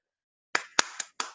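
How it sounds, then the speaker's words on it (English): Sharp hand claps in a quiet room, four quick close strikes after a half-second of silence, the first pair loudest. "That was a clap, a great one."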